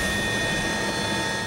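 Steady, loud engine roar and rotor drone from a Philippine Navy helicopter in flight, heard from inside the cabin, constant throughout with no speech.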